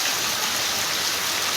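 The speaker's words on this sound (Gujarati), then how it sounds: "જો હારા મારો વરસાદ, મજા આવી ગયો." Heavy rain falling on a farm, a dense, loud, steady hiss and patter that fills the whole stretch without a break.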